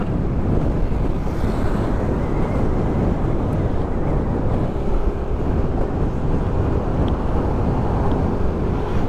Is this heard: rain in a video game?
no